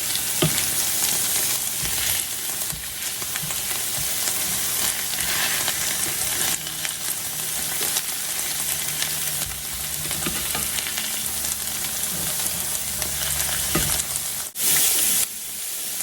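Breakfast potatoes sear in a hot skillet with a steady, loud, close sizzle that runs unbroken throughout, punctuated by a few soft scrapes and taps as the pieces are pressed and shifted.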